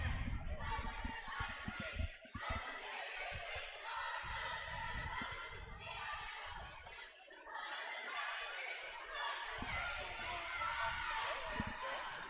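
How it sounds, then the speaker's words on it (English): Dense, loud crowd noise fills a packed gym at a 4A girls basketball quarterfinal between Mountain Crest and Sky View at the Spectrum, with a band present. A steady murmur of cheers and chatter runs throughout without letting up. "Getting a good crowd here at the Spectrum tonight."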